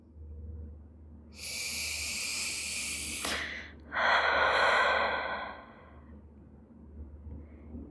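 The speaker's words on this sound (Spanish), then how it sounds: "Respiración. Inhalando y exhalando." Slow, deep breathing: a long airy inhale followed by a fuller exhale, close and clear, with quiet pauses before and after.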